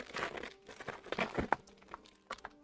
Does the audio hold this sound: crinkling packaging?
yes